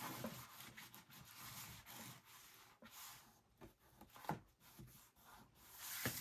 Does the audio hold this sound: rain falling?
no